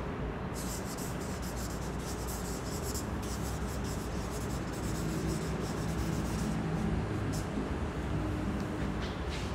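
A pen scratches steadily across paper in close, continuous handwriting strokes, with a faint murmur beneath.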